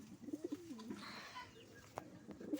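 Pigeons coo softly in a few low, throaty bursts near the start and again at the end, mother bird among them, fairly close in a quiet setting with faint background noise between calls.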